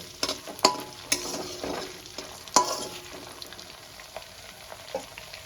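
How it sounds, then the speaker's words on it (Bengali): Whole spices for a tempering fry in a pan with a soft, crackling sizzle, punctuated by a few sharp spatula clinks and scrapes close by, without speech. "ফোড়নটা আমার ভাজা হয়ে গেছে, খুব সুন্দর একটা গন্ধও বেরিয়েছে।"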